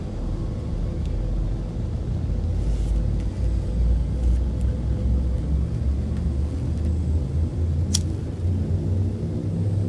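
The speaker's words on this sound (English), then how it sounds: "Frameshift drive charging." A frameshift drive charging aboard a spaceship in the game Elite: Dangerous, a continuous deep rumbling hum that holds steady for ten seconds, broken by a few faint clicks and one sharp tick near the end.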